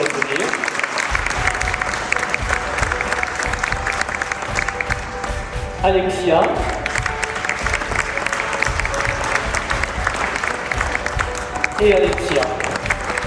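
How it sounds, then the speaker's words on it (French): Sustained applause from an audience at a municipal New Year's greetings ceremony fills the room, with a brief lull near the middle and a voice speaking a name at times over the clapping. "je crois qu'on peut l'applaudir"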